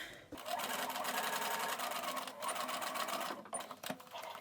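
A sewing machine runs in fast continuous bursts while stitching an invisible zipper into trousers, its rapid needle chatter broken by brief pauses, close and clear.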